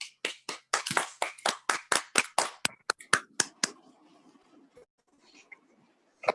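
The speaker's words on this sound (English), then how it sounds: "A round of applause for TM Queen." An audience at a Toastmasters meeting claps for a speaker: about a dozen crisp, close claps at a brisk pace, then a few scattered claps trailing off into near quiet.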